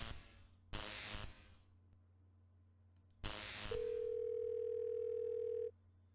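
Telephone in the point-and-click adventure game Thimbleweed Park, two short bursts of static hiss followed by a steady pure dial tone lasting about two seconds over a faint background hum.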